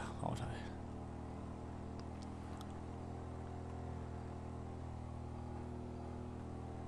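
Motorcycle engine in the video game GTA V, a steady droning whir held at speed with brief faint game effects near the start, while someone talks throughout.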